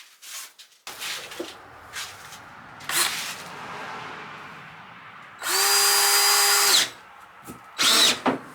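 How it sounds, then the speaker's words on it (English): Power drill boring holes while building new windows for a 215B Cat excavator. A loud steady whine runs for about a second, followed by two short bursts near the end, with scattered handling noises between them. "That drills aggressively."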